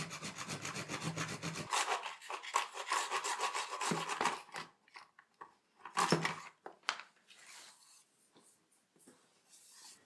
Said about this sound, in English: With my trusted wood saw, I chopped them up diagonally.